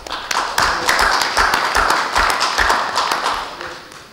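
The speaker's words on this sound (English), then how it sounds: "So a big round of applause for you guys" Enthusiastic applause from an orthopaedic conference audience, with sharp individual claps standing out over steady hand-clapping that continues throughout before easing slightly at the end.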